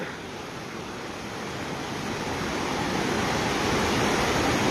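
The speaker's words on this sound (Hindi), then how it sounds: "देख पा रहे हैं कितना भयंकर पानी है।" The Gambhir river in flood rushes behind old Sawai Madhopur, a loud, steady roar of churning water that grows slightly stronger and continues unbroken with no voices.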